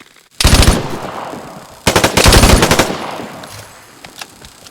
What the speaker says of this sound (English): I cannot stand light machine guns in this game